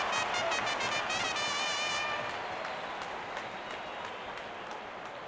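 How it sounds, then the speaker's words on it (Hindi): A stadium crowd at an IPL cricket match between CSK and RCB applauds a boundary four with loud, sustained clapping that gradually fades slightly, along with faint cheering. "जब अपोनेंट फैंस भी ताली बजा दे तो समझ जाइए बैटिंग कमाल की हुई है"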